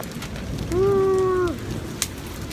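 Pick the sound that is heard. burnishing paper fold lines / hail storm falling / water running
hail storm falling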